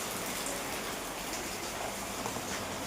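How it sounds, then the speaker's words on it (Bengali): Rain falls steadily, a loud, even, broadband patter with no breaks or voices. "তার মধ্যে আবার বৃষ্টি চলে গেল।"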